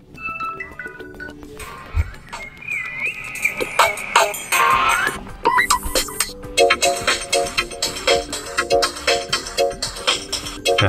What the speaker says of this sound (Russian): Можем выбрать один из этих вот стандартных рингтонов